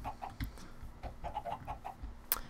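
Chickens in the Minecraft video game cluck in short, repeated bursts with a brief higher squawk near the end, moderately loud and alone.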